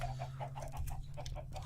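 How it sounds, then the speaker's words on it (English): Chickens in the video game Minecraft, a quick run of short repeated clucks over about two seconds, fairly faint, over a steady low background hum, with no talking. "Oh, the chickens."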